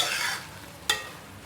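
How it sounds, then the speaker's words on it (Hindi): Maash daal is stirred in a pan with ginger, chopped green chillies and whole green chillies, giving a short soft scraping stir over a light sizzle and ending in one sharp clink. "इसको मैं करूँगी मिक्स अच्छी तरह से"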